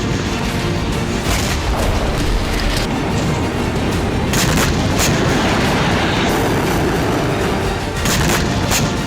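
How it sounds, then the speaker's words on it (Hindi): Israeli air force bunker-buster bombs strike tunnels and bunkers, making a dense, continuous, loud roar broken by repeated heavy booms and sharp bursts. No one talks. "हमास की सुरंगें और बंकर नष्ट करने के लिए इजरायली वायुसेना ने बंकर बस्टर बम से हमला किया।"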